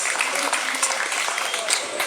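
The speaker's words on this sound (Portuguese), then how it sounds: "Me dê um aplauso para Deus." Audience applause at a church gathering with a pastor, a dense, steady wash of many hands clapping throughout, loud and close.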